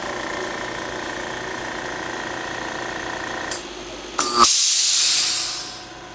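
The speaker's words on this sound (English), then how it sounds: "Basically, we have an oxygen generator." An oxygen generator runs with a steady mechanical hum and hiss, then a loud burst of venting gas cuts in sharply and gradually fades over a couple of seconds.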